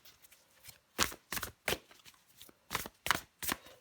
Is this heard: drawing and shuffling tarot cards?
yes